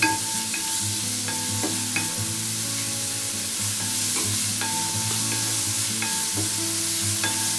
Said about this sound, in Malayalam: അപ്പോൾ നമുക്ക് അതുവരെ ഇങ്ങനെ വഴറ്റിക്കൊണ്ടിരിക്കണം